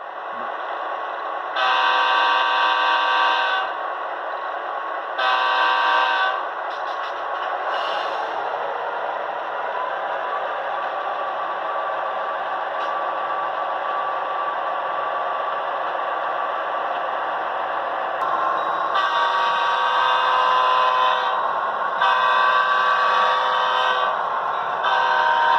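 Athearn Genesis MP15AC model locomotive sounds its horn in several long blasts over a steady droning engine hum, with the horn returning in repeated toots near the end.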